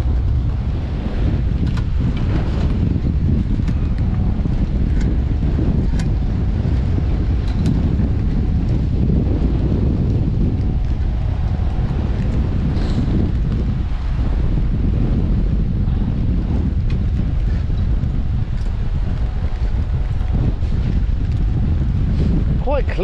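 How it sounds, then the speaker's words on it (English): Relentless wind roars across the microphone at sea aboard a boat hauling gill nets in rough water, a constant heavy buffeting with the surf mixed in and voices speaking faintly beneath it. "God, that wind's relentless"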